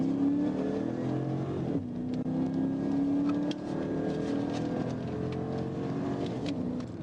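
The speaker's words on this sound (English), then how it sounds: "Trooper Ibarra observed two cars racing at over 107 miles per hour." A car engine roars past at over 107 miles per hour, its pitch shifting as it accelerates, with a second racing vehicle's whine blending in; loud and continuous.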